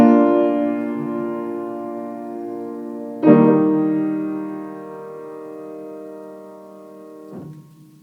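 Sustained harmonic chords in a musical cadence where the leading tone descends to scale degree 5, ringing alone with two fresh attacks about 3 and 7 seconds in, each decaying slowly.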